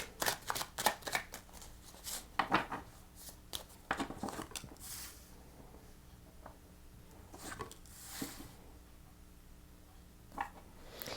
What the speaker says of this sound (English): So let's pull a card now for what challenged you in 2021 and what supported you in 2021.